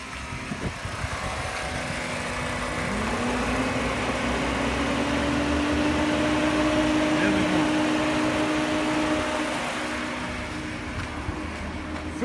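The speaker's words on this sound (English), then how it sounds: "if we start the car, we should hear the fan come on" A Peugeot 308 with an overheating fault idles with its engine started as the radiator cooling fan runs, a steady whirring drone holding at even loudness throughout, close by, with no talk over it.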